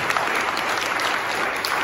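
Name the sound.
audience applause for pitch finalists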